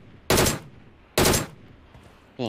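Two loud, separate bursts of gunfire in a shooting video game, each lasting about a third of a second, followed by a brief tonal game sound at the end.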